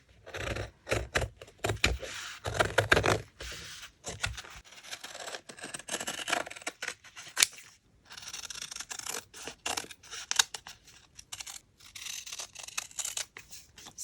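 Scissors snip through an iron-on fabric label in a quick series of close, crisp cuts and short scraping strokes, broken by brief pauses, with no voice heard.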